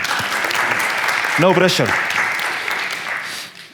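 A seminar audience at a sports training session gives a sustained round of clapping, with a brief spoken remark from one voice partway through before the applause fades out.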